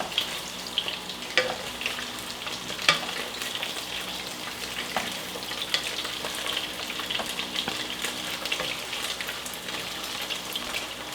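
Pork and butter sizzle steadily in a pot for kimchi jjigae, a dense crackling fry with scattered louder pops, close and continuous with no talking.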